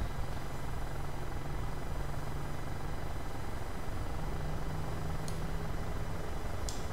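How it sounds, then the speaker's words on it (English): Boeing 737 taxiing in Microsoft Flight Simulator 2020, a steady low jet engine hum with a faint droning tone, constant and even throughout, with a couple of brief light clicks near the end. "Taxiing to runway 36 left"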